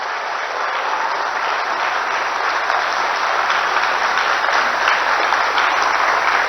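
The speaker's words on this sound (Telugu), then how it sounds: "చేస్తా అనుకున్న వాళ్ళందరూ కూడా గట్టిగా చప్పట్లు కొట్టాల్సిందిగా నేను కోరుతున్నా" A political speech audience claps loudly and continuously, a dense, even roar of applause with no talking over it.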